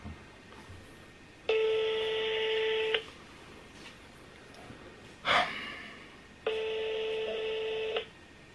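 Two long steady telephone ringback tones, each about one and a half seconds, sound from a phone on speaker as a call is placed, with a short noisy rustle between them over low room hiss.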